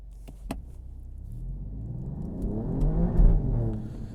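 An Alfa Romeo Giulia QV on Continental DWS06 Plus all-season tires launches from a standstill in race mode on a freezing day, its engine note swelling from a low rumble into a loud, rising rev close by with no voices.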